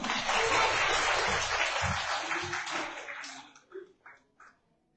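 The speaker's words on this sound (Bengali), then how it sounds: "সবাই হাততালি দেন।" An audience claps for an active members award at a soil health event, a dense burst of applause for about three seconds that fades into a few scattered claps.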